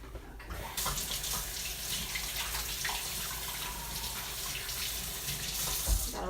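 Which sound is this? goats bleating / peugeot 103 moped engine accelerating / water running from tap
water running from tap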